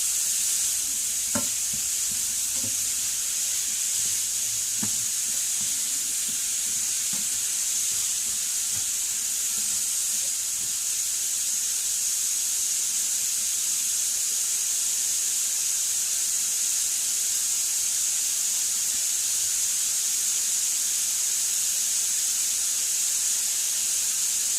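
Food fries in a pan for keto meal prep, a constant, even sizzle and hiss close to the pan, with a few soft clinks and taps early on as pieces are turned.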